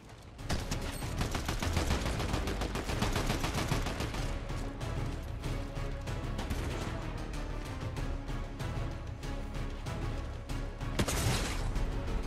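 Gunfire in the Fortnite video game during a solo competitive match, with dense rapid bursts of shots and impacts filling the whole stretch at a steady, loud level and no voices.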